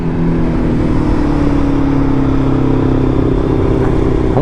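A 1000cc Kawasaki ZX10 sportbike engine pulls hard under acceleration, loud and close, with rising tones climbing steadily over about four seconds and no voices.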